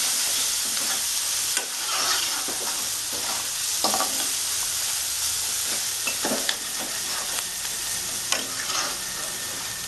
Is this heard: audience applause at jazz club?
no